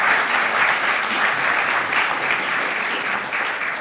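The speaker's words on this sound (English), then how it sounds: "could we have a round of applause for Elena, who's been doing such a wonderful" Steady, dense applause from a conference audience, loud and continuous throughout with no break.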